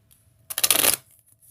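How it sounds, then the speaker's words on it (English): A single quick riffle-shuffle of a tarot card deck, a crisp burst of flicking cards lasting about half a second, close to the microphone in a quiet room. "I'm going to shuffle this real quick."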